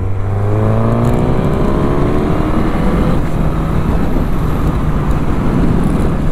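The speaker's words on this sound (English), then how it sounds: "Thanks to that GSX R1000 derived engine, this machine is really fast." A 2022 Suzuki GSX-S1000 motorcycle accelerates hard on an open road. The engine note climbs loudly and close, then gives way to a sustained rush of wind and road noise.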